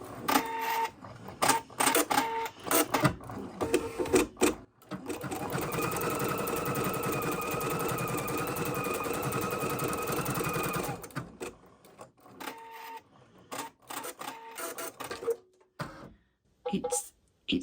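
Embroidery machine stitching running stitches on a lace heart piece, a rapid mechanical whirring hum held steady for several seconds, with brief stop-start bursts of stitching and clicks before and after, fairly close.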